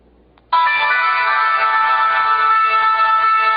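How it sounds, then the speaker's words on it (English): A loud phone ringtone starts abruptly after a short silence, a bright, sustained electronic tune playing continuously with no talking. "Ringtones, which is basically my music."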